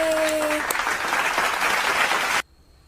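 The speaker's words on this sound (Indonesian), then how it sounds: "Tepuk tangan untuk kita semua." Schoolchildren in a primary classroom give a dense burst of applause for about two and a half seconds, with a short voiced cheer at the start, then it cuts off to near silence.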